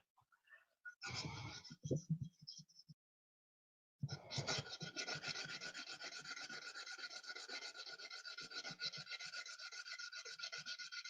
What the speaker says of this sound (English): when I start sanding the shell, just because it's quite the annoying sound